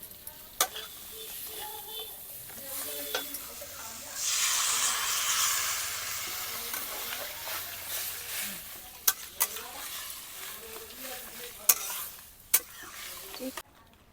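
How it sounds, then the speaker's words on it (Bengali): Crab being sautéed in a pan, village style, with water poured in, bringing a burst of loud hissing sizzle that settles into steady frying, with a few sharp clinks of stirring on top. "হালকা করে কষিয়ে নিয়ে এর মধ্যে আমি জল দিয়ে দিচ্ছি।"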